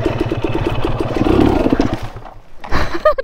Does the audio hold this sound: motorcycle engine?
yes